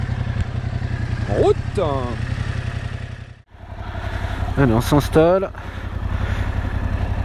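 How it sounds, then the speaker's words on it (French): A 2020 Yamaha Tracer 700 twin-cylinder motorcycle engine idles with a steady low throb throughout, with a brief dip partway through, while someone talks over it. "La sonorité est vraiment quelconque, hein, je trouve, pour un bicylindre."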